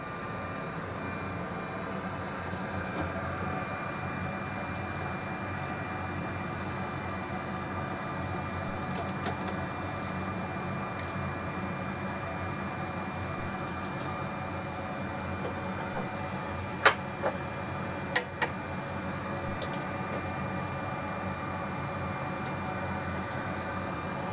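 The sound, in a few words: rework machine heating a NAS motherboard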